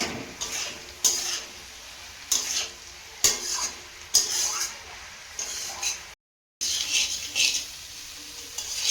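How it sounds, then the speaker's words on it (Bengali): Vegetable chorchori with peas sautéed in a pan, a spatula scraping and stirring in repeated strokes about once a second over a low sizzle, close and fairly loud, with a brief gap of silence. "সবজিটা ভালো করে কষিয়ে নিয়েছি"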